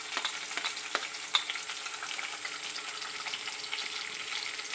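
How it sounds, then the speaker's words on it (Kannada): Curry leaves and green chillies crackle in hot oil for prawn sukka, a steady close sizzle with a few sharp pops and spatters, no voices. "ಸ್ವಲ್ಪ ಹೊತ್ತು ಹೀಗೆ ಫ್ರೈ ಮಾಡ್ಕೊಳ್ಳೋಣ."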